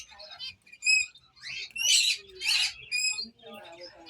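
Pet finch and cockatiels chirping and squawking indoors in short, bright bursts, close by, with a few louder harsh calls among the tweets.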